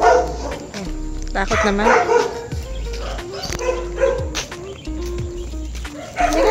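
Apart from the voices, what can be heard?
dog barking angrily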